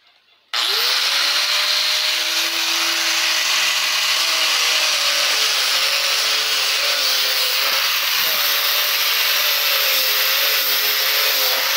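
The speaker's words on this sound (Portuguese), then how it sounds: "Aí eu vou lixar, deixar bem lixadinho, pra poder não ter nenhum risco" A power sander spins up abruptly and runs steadily on wood being smoothed for a recycled craft project, a loud, close, continuous whine with a slight pitch dip near the end and no talking.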